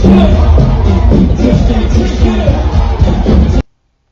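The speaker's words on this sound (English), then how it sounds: "Crowd's going crazy, having a great time." A concert crowd cheers and shouts wildly during a young South African rapper's stage performance, a dense continuous roar of voices and music that cuts off abruptly near the end.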